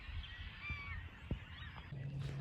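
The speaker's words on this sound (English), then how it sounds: "somewhere in Kansas at this beautiful lake, surrounded by a bunch of beautiful birds" Geese honk repeatedly at a lake in Kansas, several calls close and clear over steady outdoor background noise, with other birds faintly audible around them.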